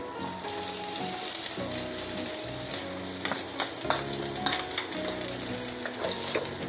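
Minced garlic fries in a tablespoon of oil in a pan, a loud continuous sizzle broken by repeated scraping and clinking strokes as it is stirred up close, with no talking.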